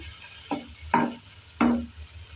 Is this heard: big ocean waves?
no